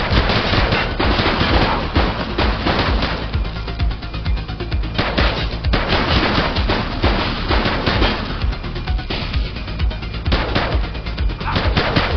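Rapid gunfire in the police video game The Precinct, with dense bursts of automatic shots crackling continuously at loud level, one volley running into the next across the whole stretch.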